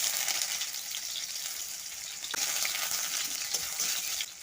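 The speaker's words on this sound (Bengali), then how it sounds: "তেল গরম হয়ে গেছে আমি কেটে রাখা পেঁয়াজগুলো দিয়ে দেবো" Chopped onions hitting hot oil in a wok, a close, steady crackling sizzle with a couple of sharp spits and scrapes partway through, no talking.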